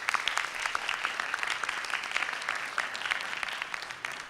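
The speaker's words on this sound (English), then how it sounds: "we should give them another round of applause" An audience at a biomedical prevention plenary session applauds the presenters, a dense, even clapping that holds steady throughout without voices.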